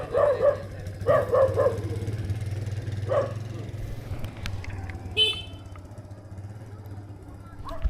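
Several dogs bark on Mt. Parawagan, a few sharp close barks in quick bursts followed by scattered single yips, over a steady low engine hum with a brief horn-like toot.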